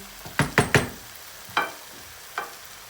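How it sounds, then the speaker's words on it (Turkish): A utensil stirring a tomato paste sauce with water in a pan makes a quick cluster of three scraping strokes, then two more spaced-out scrapes, close and moderately loud over a low sizzle. "Şöyle bir karıştırıyoruz."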